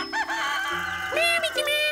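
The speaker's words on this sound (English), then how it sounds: "you think Mr. Rooster is broken? Is that why he keeps crowing?" A cartoon rooster crows loudly in a long, wavering, tuneful call that stretches across the moment, bright and close, with no talking over it.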